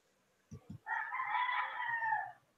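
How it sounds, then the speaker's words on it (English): A rooster crows once, a clear, fairly close call lasting over a second, preceded by a couple of soft thumps against a quiet background. "The roosters are waking."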